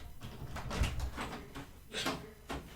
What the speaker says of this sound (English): Heard a door open.